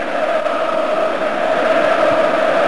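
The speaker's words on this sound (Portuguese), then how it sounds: "Torcida argentina começa a gritar, tentando incentivar o time." Dense, steady roar of Argentine football supporters shouting together in a stadium during a 2002 World Cup qualifier against Brazil, a continuous wash of many voices without a break.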